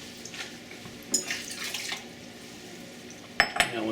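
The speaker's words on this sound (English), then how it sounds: "So I'm going to add some water in here." Water pours into a sous vide bath during a steak and asparagus cook, a steady splashing rush lasting about a second, followed by a few sharp clinks of cookware near the end.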